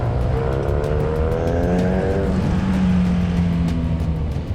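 A motorcycle engine revving up hard to overtake on a mountain road in Italy, a loud rising whine over steady wind and road roar, no talk.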